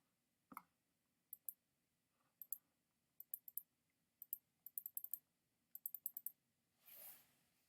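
A computer mouse and keys click in quick, quiet bursts, single taps and short clusters spread unevenly across a near-silent room, ending in a soft shuffle.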